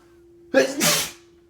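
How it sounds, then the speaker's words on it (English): A single sudden sneeze bursts out sharply over a quiet, steady hum, then fades back to near silence. "that sneeze came out of nowhere"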